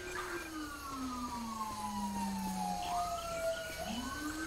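Emergency vehicle sirens wail in the video game GTA 5, rising and falling tones sweeping continuously at moderate distance with a second siren overlapping, no talk.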